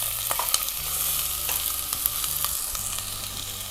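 Red onions and ginger sizzle in a hot pan as they are stirred, a steady crackling fry broken by short utensil scrapes and taps at an irregular pace, close and clear with no talking.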